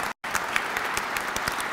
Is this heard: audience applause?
yes